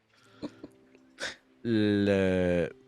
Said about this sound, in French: votre contact, est un peu nerveux, il se racle la gorge